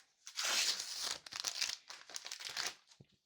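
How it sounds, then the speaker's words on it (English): Wax paper is peeled and crinkled off a new Google Pixel 9 Pro XL phone during unboxing, close crackly rustling in several bursts with short pauses between them. "So we got some sort of wax paper stuff on here."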